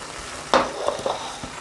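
Mutton, tomatoes, sweet potato and carrots with ras el-hanout stirred in a pot, a brief low sizzle broken by a few clacks and scrapes of a spoon against the pot.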